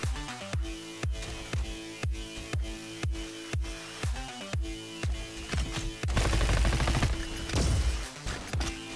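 Rapid automatic fire from a gold SMG in a video game, a steady stream of punchy shots with a louder, denser burst near the end and game music or ambience underneath.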